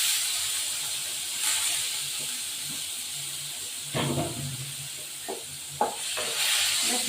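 Ridge gourd pieces drop into hot oil in a home kitchen pan, giving a steady hissing sizzle throughout with a few sharper spattering bursts and clatters toward the end, close and moderately loud.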